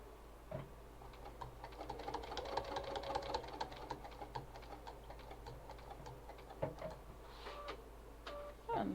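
A sewing machine stitches a zip onto a foam-backed wallet, a soft rapid ticking run that is faint and close, with a brief pause near the end.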